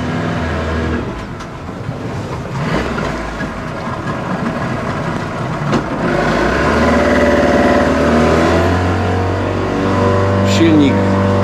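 A struggling, rasping boat engine runs on Lake Victoria in Tanzania, a rough, continuous motor drone that swells louder toward the end, with people talking over it.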